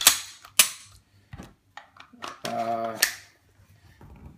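An empty Glock 41 .45 caliber long slide pistol is handled, producing several sharp, close mechanical clicks and snaps from its action, spaced irregularly with quiet gaps and a short buzzing rattle.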